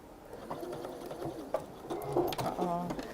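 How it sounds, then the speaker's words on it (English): A sewing machine running a short straight stitch along a fabric scrunchie, a quick rapid mechanical patter close by with faint background voices. "you're just going to sew a straight line down there"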